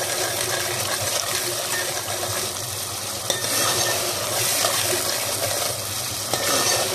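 Ground spices with salt, chili and turmeric frying in oil for a mixed vegetable curry, a steady close sizzle with stirring scrapes throughout and no talk.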